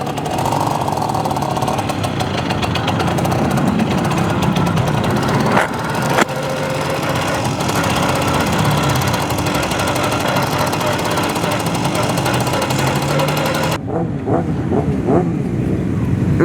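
A Romet T50-1 motorcycle engine putters slowly at low revs, a steady close rumble with wind noise on the microphone, running on throughout and easing near the end.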